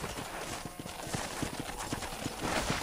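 Horse hooves clip-clop steadily at a walking pace in the Red Dead Redemption video game, a close, even rhythm of hoof strikes over a constant ambient background with no talk.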